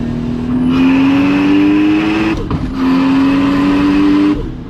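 A Toyota Supra MK4 engine roars loudly up through the revs, breaks off for a quick gear change, then climbs again in a second strong pull.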